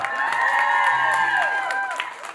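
Applause from a crowd at a festive Kazakh wedding celebration, honouring a young woman contestant; steady clapping fills the whole stretch, close and moderately loud, with a faint low hum beneath.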